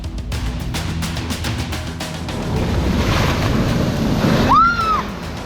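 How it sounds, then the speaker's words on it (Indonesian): Large ocean waves crash and surge along the coast of Aceh, a loud rushing wash swelling through the middle, with wind buffeting the microphone and a brief whistling tone near the end. "Ini ombaknya terlalu besar."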